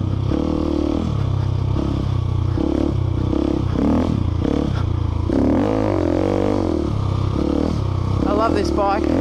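Off-road motorcycles, a KTM 690, DR650 and SWM Superdual on a sand adventure ride, roar loudly and steadily, the engine revving up and down with clattering and scraping as wheels churn sand, continuous throughout.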